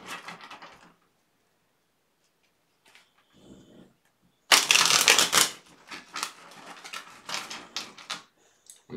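Tarot cards being shuffled close up in several bursts of riffling and slapping, separated by quiet pauses.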